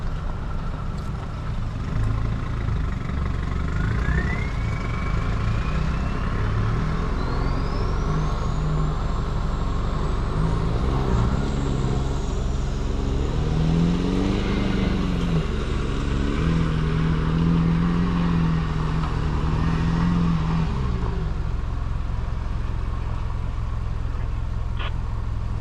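A vehicle grinds up the slippery Greasy Hill near the Harvey power lines in first gear, its engine droning loud and steady throughout, with a whining pitch that climbs and surges mid-way before settling back.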